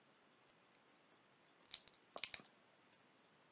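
Paper scissors snip through a paper envelope, a handful of quiet, sharp crisp cuts and crinkles clustered in short bursts against a near-silent room.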